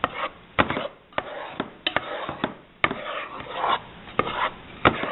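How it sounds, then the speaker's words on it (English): A spoon scrapes and knocks around a pot of thickening bourbon fudge as it is stirred continuously, giving an irregular series of close, sharp scraping clicks and rubs with quiet gaps between. "I have to continually stir this stuff. You cannot stop stirring it because it will set up on you."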